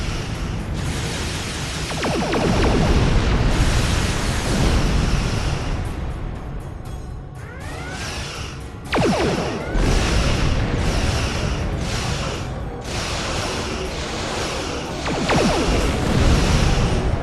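Weapons fire and explosions in the Star Trek Online space game, a dense, continuous barrage of booms and whooshing bursts lasting throughout, loud and close with no speech.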